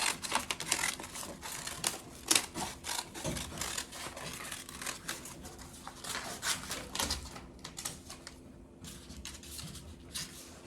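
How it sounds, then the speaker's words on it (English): Scissors cut a piece of adhesive transfer sheet, making a long run of close, crisp snipping clicks in an uneven rhythm with short pauses. No one talks. "So I'm going to cut that out."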